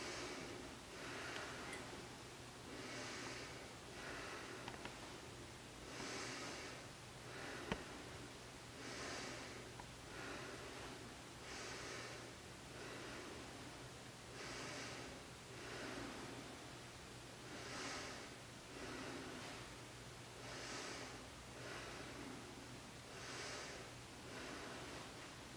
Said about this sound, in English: I want you to take some deep breaths in and out.